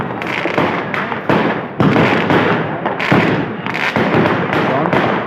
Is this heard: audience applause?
no